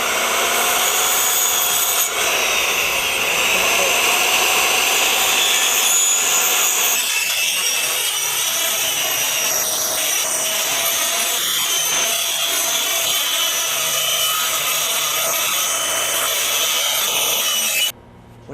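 Saw cutting plywood while trimming soffit and fascia, a loud continuous rasping cut that runs steadily for most of the time and then stops abruptly.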